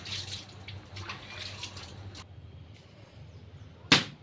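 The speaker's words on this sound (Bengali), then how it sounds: "তো এখন আমি তালটাকে ধুয়ে নিয়ে আসি" A palmyra palm fruit being washed in a bowl of water, soft splashing and sloshing for about two seconds, then quiet, ending with a sharp knock.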